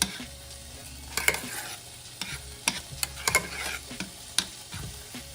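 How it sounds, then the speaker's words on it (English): Chili warming in a pot is stirred, giving soft scrapes and several sharp spoon taps against the pot over a faint low bubbling sizzle, close and without talk. "our chili is starting to heat up, so I'm just gonna give it a stir"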